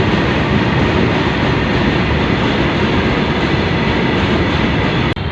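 An empty goods train at Bagbahara railway station, a loud continuous low rumble of rolling wagons close by, steady throughout with a brief sharp click near the end.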